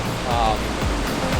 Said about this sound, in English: The waterfall is huge.